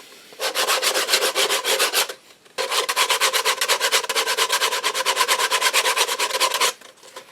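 Walnut hardwood is worked with 80-grit machine belt sandpaper in fast, even back-and-forth strokes, loud and close. After a brief pause there is a second, longer run of rasping strokes.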